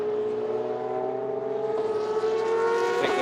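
BOSS GP race cars circulating behind the safety car at Assen, a steady tonal engine drone that slowly rises in pitch, loud and unbroken with no voices.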